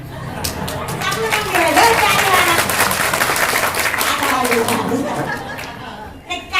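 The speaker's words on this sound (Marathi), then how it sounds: "माणसं वाजवतात टाळ्या, तुम्ही मी वाजवल्या पण माझ्या उपकार केल्यासारख्या वाजवले" An audience claps through a Marathi kirtan in Narayangaon, with steady applause lasting several seconds, mixed with crowd chatter and voices.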